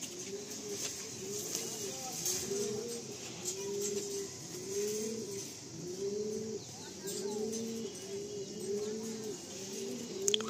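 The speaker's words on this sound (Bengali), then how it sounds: "আর এই হচ্ছে প্রচন্ড ছটফটে পায়রা।" Pigeons, including a restless bird, coo in a steady rolling series of soft low calls repeating close by, with faint chirps and background voices murmuring at times.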